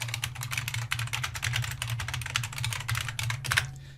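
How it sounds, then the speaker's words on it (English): Fast, steady clatter of keys as a link is typed on a computer keyboard, close and continuous for about four seconds, with a low hum underneath and no talk. "This is exciting, people watching me type a link."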